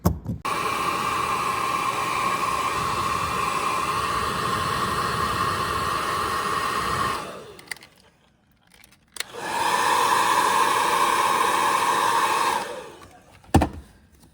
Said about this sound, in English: I'm gonna warm it up with the hair dryer